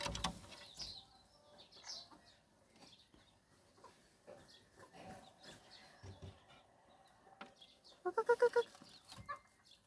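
Sparse rustling and scattered bird sounds, then a quick burst of five or six sharp clucks from a nearby wild junglefowl near the end.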